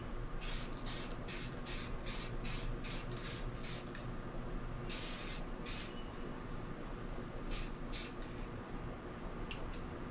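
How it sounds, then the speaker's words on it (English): Repeated short hissing bursts of a spray can applying a coat of SEM paint, a quick run of evenly spaced sprays followed by a few longer ones, close and clear. "After we spray this last coat"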